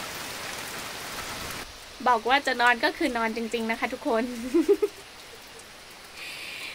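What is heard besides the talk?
rain falling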